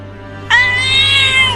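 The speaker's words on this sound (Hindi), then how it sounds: "अरे ये बिल्ली तो पिंजरे में से निकलने की कोशिश कर रही है।" A caged cat lets out one loud, drawn-out meow that starts abruptly and holds steady with a strained, wailing tone, heard alone over a low constant hum, as it tries to escape the cage.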